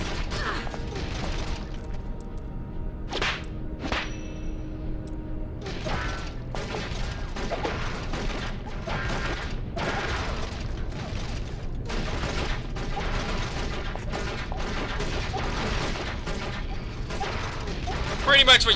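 Metal grates are shot out and clatter down in a video game, with dense gunfire, mechanical clanks and crashing impacts running continuously through the scene.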